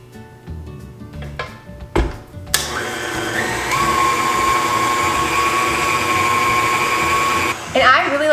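Cream cheese fruit dip ingredients with heavy cream are mixed. A few clanks of a bowl come first, then a loud, steady electric mixer whir runs for about five seconds before stopping, with a brief clatter at the end.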